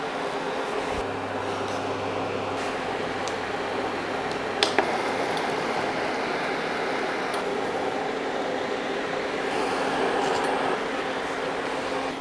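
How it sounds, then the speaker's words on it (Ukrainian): Water boiling in a pot under a lidded sieve while yeast dumplings steam, a continuous even hiss and bubbling roar with a brief low hum near the start and a couple of faint clicks. "Вода закипіла, ложимо вареники на сито, не дуже близько один до одного, накриваємо кришкою та варимо до готовності"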